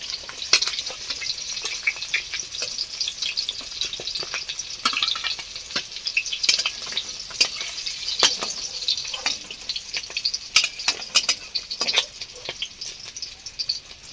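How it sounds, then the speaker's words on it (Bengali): Eggs frying in oil in a pan until browned, giving a steady close sizzle scattered with sharp crackles and pops throughout, with no voices. "বন্ধুরা ডিমগুলো কি সুন্দর করে লাল লাল করে ভাজা হয়ে গেছে"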